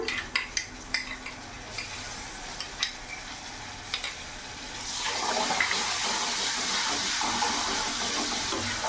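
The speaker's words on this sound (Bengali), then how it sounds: "যতক্ষণ না কাঁচা ভাবটা যাচ্ছে রসুনের, ততক্ষণ একটু ভালো করে নাড়াচাড়া করে নেব" Ginger, garlic and chili paste with cumin powder in a cooking pan: a few sharp spatula clinks and scrapes over a low hiss, then a steady loud sizzle of frying that continues to the end.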